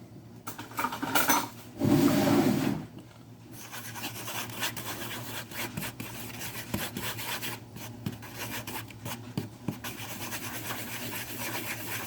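A fork scrapes and rubs briskly around a bowl, mixing ingredients with a close, gritty, rhythmic sound and one louder burst of quick strokes near the start, and no one speaks.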